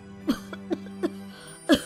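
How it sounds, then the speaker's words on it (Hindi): A handful of short, dry coughs come at uneven intervals over a low background hum, the last one the loudest. "ये इतनी खांसी क्यों आ रही है तुझे?"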